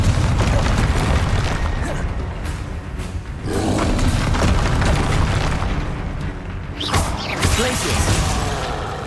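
Confringo fire spells go off in Hogwarts Legacy: loud, rumbling explosions and booms follow one another over continuous combat noise, and a few sharper bursts stand out near the end.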